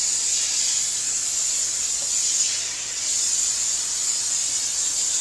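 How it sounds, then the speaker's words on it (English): Cooking spray hisses in one long, steady burst onto flour-dredged turkey knuckles, close and continuous with only a brief dip in the middle. "Now we're just going to spray them with some pan spray."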